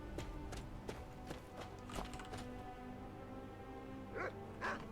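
Dogs in the Skyrim video game bark in short, separate bursts, several sharp barks spaced irregularly over a low background rumble and soft footfalls.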